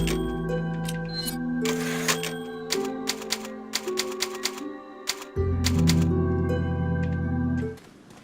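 Typewriter save point in the Resident Evil 4 video game: sharp, rapid clacking keystrokes over a sustained tonal music bed, steady and fairly loud for about eight seconds before cutting off.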